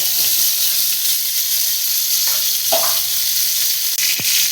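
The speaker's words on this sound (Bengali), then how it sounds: "একটু কড়াইয়ে তেল দেবো তেল দিয়ে একটু আলু দেবো" Potatoes frying in hot oil in a kadai give a steady, loud, close sizzle, with a few soft utensil knocks and scrapes partway through.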